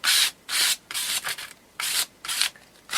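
A card scrapes repeatedly across a rough, textured art journal page in short, raspy strokes, close and fairly loud, with brief pauses between swipes.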